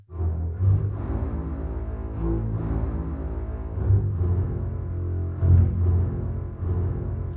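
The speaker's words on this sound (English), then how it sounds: "you can create this very detailed sequence like this on the basses" Orchestral string basses from the Berlin Strings sample library play a detailed, driving sequence of short marcato notes, deep and resonant, in steady rhythmic pulses with no voices.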